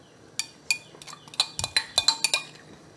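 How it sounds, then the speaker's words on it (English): Spoon strikes and scrapes a pot while rice and toasted rice are stirred into broth for Hmong squirrel stew, about a dozen irregular metallic clinks, close and alone. "hands to mix the rice with the broth. Let's add the toasted rice."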